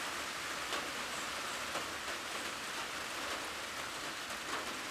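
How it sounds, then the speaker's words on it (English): Steady, dense rain falls outdoors around a house with a shed, a continuous hiss of drops at even loudness with scattered louder patters and no voices. "Lots of rain."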